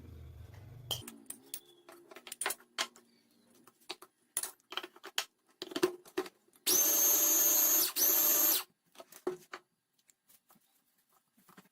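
A Mito Chiba electric food chopper runs on mashed bananas and sugar in two loud, close whirring bursts, the second following a brief pause, amid scattered kitchen clatter and tapping.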